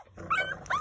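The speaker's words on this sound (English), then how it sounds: "Y'all growling at me?" A puppy gives a short, close growl with whimpering yips, two brief vocal bursts within under a second, no talking.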